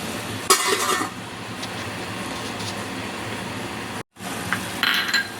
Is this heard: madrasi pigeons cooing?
no